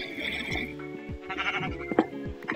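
Blocky Minecraft sheep bleat repeatedly in short wavering cries, several overlapping calls close by, mixed with light game sounds and no talk.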